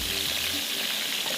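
Stuffed eggplant frying in oil in a covered pan gives a steady, close hiss and sizzle with faint crackles, continuous and even throughout.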